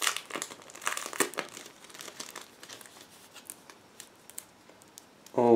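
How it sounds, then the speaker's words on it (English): Soft, irregular crinkling and rustling of plastic close by, in scattered bursts, ending as a voice starts speaking. "I'll open this plastic bag and we will check them closer"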